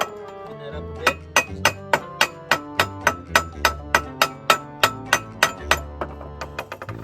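A hammer chips slag off a fresh, rough weld bead in a run of about twenty sharp metallic clinks, steady at first and quickening near the end, close and loud over a low background hum.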